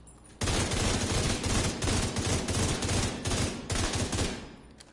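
Sustained rapid gunfire in The Division 2, dense overlapping bursts of shots firing almost continuously and loudly for several seconds, with brief dips between volleys.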